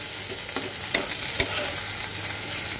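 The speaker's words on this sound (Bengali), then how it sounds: "সেটাকে সুন্দর করে আগে কয়েক মিনিট ভেজে নেই" Ginger, garlic and onion masala paste frying in a pan for a spicy prawn dish, a loud continuous sizzle with a few spoon scrapes and taps as it is stirred.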